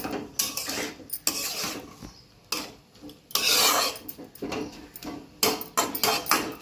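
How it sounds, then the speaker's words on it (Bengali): A utensil scrapes and rasps against a cooking pot as radish greens are stirred, in irregular bursts of rubbing and clinking with brief pauses, close and fairly loud, with no talking. "নিয়ে একটু নিচে থেকে ওপর নেড়ে দেবো"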